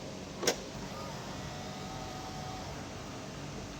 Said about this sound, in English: To lock the car, press this indentation on any of the 4 door handles.